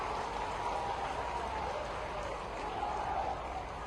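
An audience claps continuously at a political rally with Jyotiraditya Scindia and Chief Minister Shivraj Singh on stage, the applause forming a dense, even roar of many hands that holds at steady loudness throughout.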